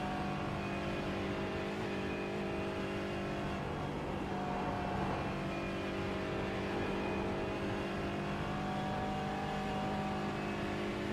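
A Porsche race car in the iRacing sim on the Nürburgring Nordschleife during an endurance race, a steady, loud engine drone with a slight swell midway as it closes in and passes.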